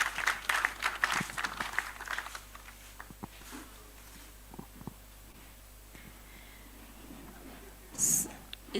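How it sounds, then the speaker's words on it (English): Audience round of applause for the tech crew at a conference unconference session, a burst of clapping at the start that thins out into scattered claps and room noise, with faint murmurs. "let's give a round of applause for our tech guy"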